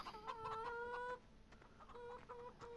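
Chickens clucking in Farming Simulator 17, a few hens giving repeated short clucks and squawks at close range, with no talk.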